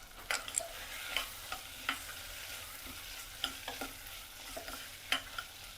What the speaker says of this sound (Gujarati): તો વટાણાને એડ કર્યા છે. એકાદ મિનિટ માટે આપણે એને સોતરી લેવાનું છે.